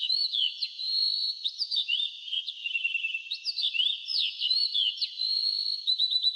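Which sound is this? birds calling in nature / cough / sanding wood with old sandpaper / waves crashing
birds calling in nature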